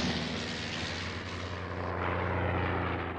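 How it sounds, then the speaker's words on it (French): A Nieuport fighter plane from the First World War era passes with a steady droning propeller engine, loud and continuous, swelling slightly as it nears, with no voices. "le sergent-pilote Charles Godefroy décide un geste insensé, passer avec son chasseur un Nieuport sous l'Arche."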